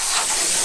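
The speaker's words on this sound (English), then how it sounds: "We're just going to get the airline and blow all the dust off before it gets wet" Compressed air line blasting dust off a tractor front mower, a steady, close, loud hiss of rushing air with no break.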